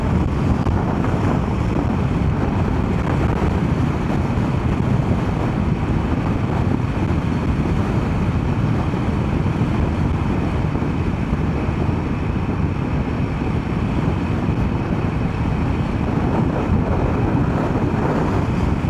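Wind buffeting a microphone inside a helmet with a wind muff during a windy ride, a loud, constant broadband roar lasting the whole time with no talking.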